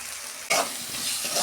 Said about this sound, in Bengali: ভাজা সবজিগুলো দিয়ে দিচ্ছি।